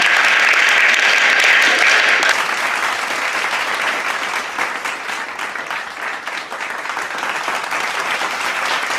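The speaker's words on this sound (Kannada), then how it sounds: "ಜೋರಾದ ಚಪ್ಪಾಳೆಯೊಂದಿಗೆ ಅಭಿನಂದನೆಗಳನ್ನು ಸಲ್ಲಿಸುವ" School students at a high school assembly give loud, sustained applause as they congratulate a newly sworn-in student leader. The clapping is dense and continuous and eases slightly after the first couple of seconds.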